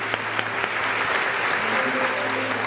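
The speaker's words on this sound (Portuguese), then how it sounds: "Uma salva de palmas, nossos convidados." Audience at a Portuguese-language church conference forum claps steadily for the guests, a dense, even applause throughout with light murmuring underneath.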